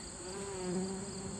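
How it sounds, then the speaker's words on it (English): Honeybee buzzing close by near a lone wildflower in an open field, a steady continuous drone with no pauses, heard alone. "I believe that's a honeybee."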